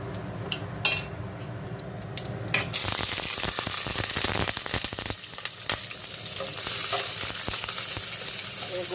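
Sliced onion and nigella seeds drop into hot oil with dried red chilli, breaking into a loud, dense sizzle after a few light clinks, with a spoon scraping and stirring through the steady frying.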